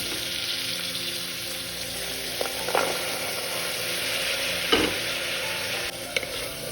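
Shallots sauté in a pan with crushed ginger, garlic and fennel seeds for an onion-chili beef dish, giving a steady close sizzle with a few soft stirring scrapes and no voices.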